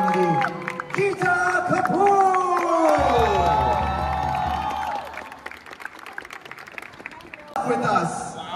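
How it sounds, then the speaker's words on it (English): An indoor crowd cheers, shouts and claps for choreographer Geeta Kapoor, with loud excited voices over a dense wash of applause that eases toward the end. "Please can we have a huge round of applause for the one and only Geeta"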